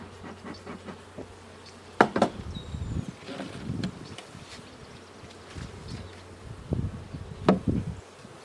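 Honeybees buzz around an open hive during a July honey super check, a soft steady hum with brief closer passes and occasional light knocks of handled frames.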